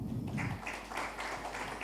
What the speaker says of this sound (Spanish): Fuerte el aplauso, ¿no?